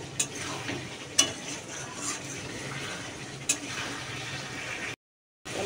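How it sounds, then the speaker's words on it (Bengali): Water is poured into a spiced potato curry that is frying in a pan. The steady sizzle and bubbling run under a few sharp stirring taps before the sound cuts out briefly. "এবার জল দিয়ে দেবো, আমার কষানো রেডি, জল দিয়ে দেবো।"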